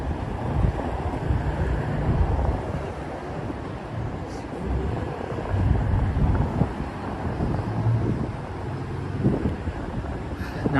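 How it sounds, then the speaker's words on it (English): Strong wind buffets an unplugged microphone on a Manhattan street at night, a continuous low rumbling roar with gusty swells throughout. "It's very windy tonight in Manhattan."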